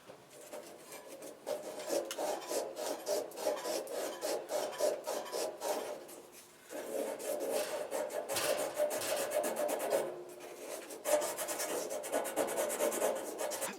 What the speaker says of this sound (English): A little piece of emery cloth.